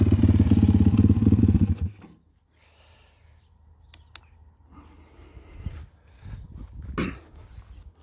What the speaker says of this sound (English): Now that's how a bike should start.